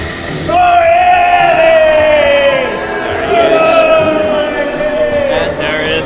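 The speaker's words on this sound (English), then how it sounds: "The crowd backing Enda here in Letterkenny" Wrestling crowd in a Letterkenny venue at a CAW event roars and yells in a sustained, loud, close wave of bellowing voices that swells, dips and rises again.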